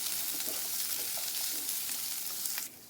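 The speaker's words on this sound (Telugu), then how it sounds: "ఇలా బాగా ఫ్రై చేసుకోవాలి" Sliced onions with a little salt sizzle steadily in a hot pan for a bean curry, a dense, even crackle close by with faint stirring scrapes and no voices.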